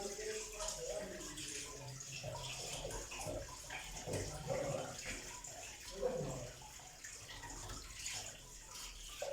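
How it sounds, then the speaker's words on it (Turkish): Fish being washed under hot running water, a steady splashing stream with scattered drips and clatter, fairly close and continuous, with faint voices in the background. "Şöyle balığımızı güzelce Yıkayalım sıcak suyla"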